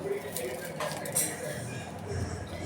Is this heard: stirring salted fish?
yes